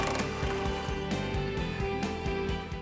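Ratchet wrench clicking rapidly and rhythmically while removing the rear subframe bolt on a 2024 Ford Mustang, close up and alone.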